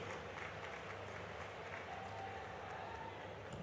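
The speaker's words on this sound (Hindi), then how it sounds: "स्वागत करिए जोरदार तालियों से माननीय मुख्यमंत्री डॉक्टर मोहन यादव जी का" Distant, faint crowd applause at a public event welcoming a chief minister, a steady wash of clapping heard far off under a constant low hum.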